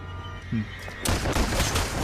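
Gunshots from the film Planet Terror burst in as a dense, loud volley of rapid cracks following a brief quieter stretch, heard through movie playback.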